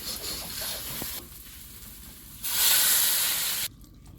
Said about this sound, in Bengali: হলুদ লাল লাল করে ভাজা হয়ে গেছে জল দিয়ে দেবো